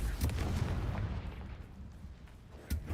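A Confringo fire spell blasts in Hogwarts Legacy: a booming burst at the start and a second sharp blast near the end, over low rumbling game ambience.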